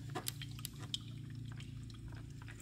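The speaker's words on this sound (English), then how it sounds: "That's an aquarium full of water right here." Water trapped inside a Toyota Corolla headlight assembly sloshes and drips faintly as the housing is tipped, producing soft, irregular liquid splashes close by over a low background hum.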